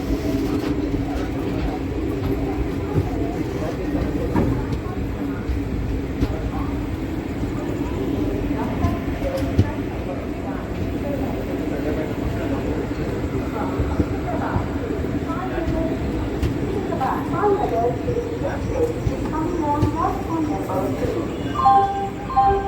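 Inside train no. 17002 headed for Parli Vaijnath, a steady loud rumble and rattle of the moving carriages carries on throughout, with occasional clanks.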